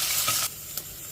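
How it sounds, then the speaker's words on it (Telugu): Chopped onion and garlic tempering sizzle in hot oil in a clay pot, a close bright frying hiss with a stirring scrape that drops away midway, then a short stir click over quieter sizzle. "ఇప్పుడు ఈ పోపును బాగా ఫ్రై చేసేసుకోవాలండి"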